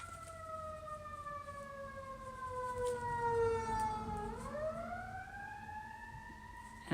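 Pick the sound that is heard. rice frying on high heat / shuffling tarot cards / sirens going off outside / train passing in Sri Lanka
sirens going off outside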